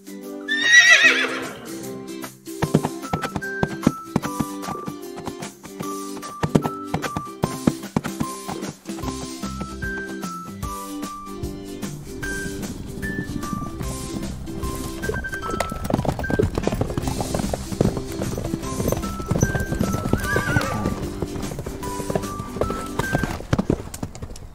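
Steady clip-clop of horse hooves over a simple melodic backing, with a clear horse whinny rising near the start.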